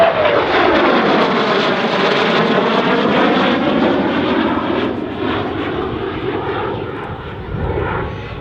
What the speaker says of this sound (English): From your right, the F-16 Fighting Falcon and the knife edge pass.